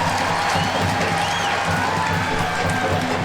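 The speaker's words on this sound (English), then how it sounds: "Couldn't quite get the shot off she wanted, but does earn the corner, and the crowd applauds her for it" Stadium crowd at a women's soccer match between Spirit and Thorns applauding a player who earned a corner, steady broad clapping and cheering throughout.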